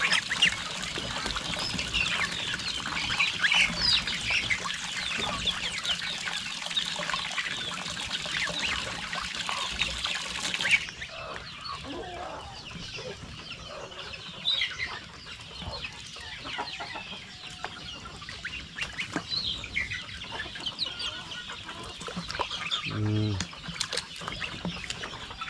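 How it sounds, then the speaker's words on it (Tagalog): Goose with other farm poultry after a bath in a Filipino backyard farm, a mix of clucks, quacks and honks over steady water trickle and outdoor noise, busy at first then thinner, with a brief low honk near the end. "Naligo na yung gansa natin."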